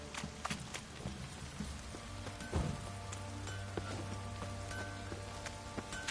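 Steady rain patter from a downpour in The Witcher 3 hisses evenly throughout, with a brief louder thump midway and a low hum underneath.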